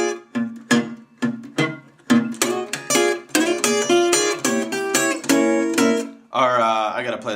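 Delta blues acoustic guitar solo built on a diminished chord, with repeated picked notes and strums in a quick rhythmic run, close and alone, ending on a brief buzzing sustained tone.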